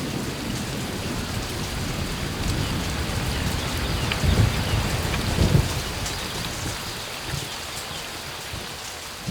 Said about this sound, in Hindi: इतनी मुसलधार बारिश है कि किसी का चेहरा नहीं दिख रहा है